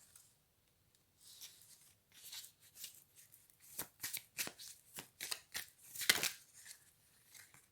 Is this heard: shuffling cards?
yes